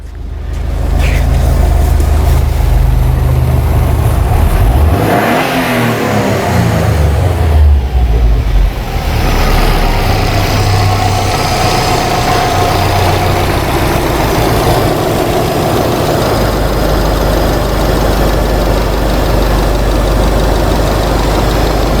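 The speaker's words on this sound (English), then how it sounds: "Let's rev this thing again and see what happens." A 2008 Subaru Legacy with a stalling problem, its engine loud and close, rising in a sweeping rev around the middle before settling back to a steady, rough-edged idle for the rest.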